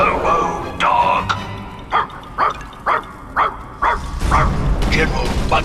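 A robot dog in the video game Puppeteer gives a series of evenly spaced barks, loud and close, with game sound and voices around them.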